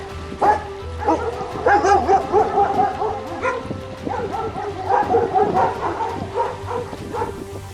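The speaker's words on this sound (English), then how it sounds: "Dog barks like this." A dog barks repeatedly at moderate volume, a series of sharp woofs in irregular bursts, some closely spaced, separated by brief pauses.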